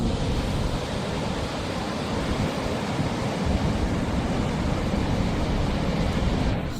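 Huge ocean waves at Nazaré, Portugal roar as a steady, dense wash of surf, broad and continuous throughout, with no distinct individual crashes standing out and no voices.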